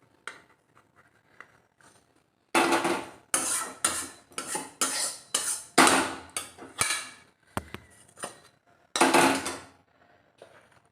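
Hot food is tipped and scraped onto a metal plate. After a quiet start come a run of loud, close bursts of clattering metal scraping, spaced in quick irregular strokes, with no talking.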